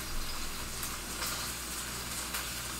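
Onions tumble into a hot wok during a home cooking stream and sizzle with a soft, steady crackling hiss, fairly quiet and continuous, with a few brief bursts as they settle.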